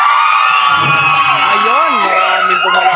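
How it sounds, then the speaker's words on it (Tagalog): A bingo caravan crowd cheers, whoops and applauds in a loud, steady swell of many voices, with shrill excited shouts rising and falling throughout. "Dumami na ang palakpak."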